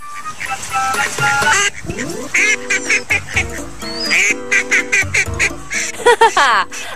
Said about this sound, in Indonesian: Mungkin ia sedang melihat pemiliknya terjatuh, sehingga si bebek tertawa terbahak-bahak.